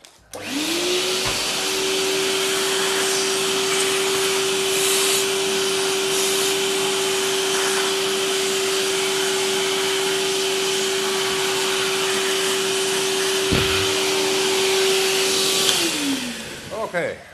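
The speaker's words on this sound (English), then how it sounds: "I need to vacuum it" A shop vacuum cleaner runs steadily for about fifteen seconds while sucking up metal chips after slitting-saw work on a milling machine, a loud constant whine with occasional rattles of chips and a spin-down at the end.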